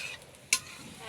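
Spice masala stirred in a pot for a sea fish curry, with one sharp scrape of the spoon partway through over a faint, steady background.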